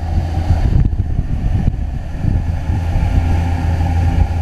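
Twin outboard engines on a 2000 Jaws Lorequin 24 center console boat hum steadily at cruising speed around 30 mph, a loud, continuous low drone mixed with wind and water rush.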